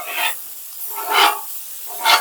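Food frying on a griddle at its first cook, sticking slightly, with three separate bursts of sizzling and hissing rising and fading at roughly one-second intervals over a quiet background.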